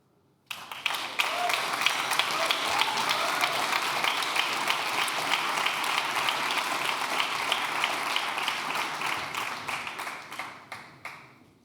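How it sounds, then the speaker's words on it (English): Sustained audience applause at a start-up award ceremony, a dense wash of many hands clapping that starts abruptly, holds steady and loud for about ten seconds, then thins out to a few last claps. "Applause, applause, congrats."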